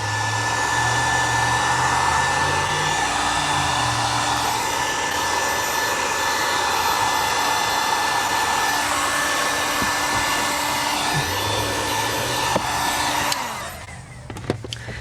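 A heat gun blows a loud, steady roaring whoosh while post-heating vinyl skins on 2007–2014 Toyota FJ Cruiser doors, with slight pitch shifts as it moves, before cutting off near the end.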